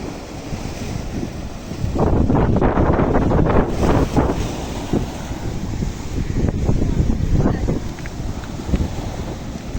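Strong wind rushing across the microphone with sea waves surging and breaking nearby at Point Pedro, Jaffna, a steady loud roar that swells and eases, no talk.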